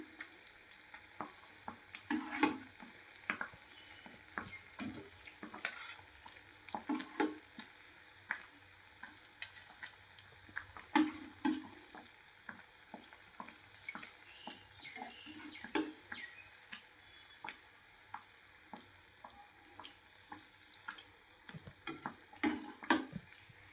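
Wheat badusha frying in hot oil gives a soft, steady sizzle with occasional bubbling pops and light stirring clicks, faint and continuous with no voices.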